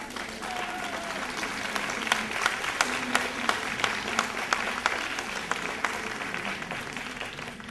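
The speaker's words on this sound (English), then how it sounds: "I'd like you to clap your hands, please." A church audience claps for an archbishop, scattered individual claps standing out sharply over a thinner, steady patter of applause at moderate distance.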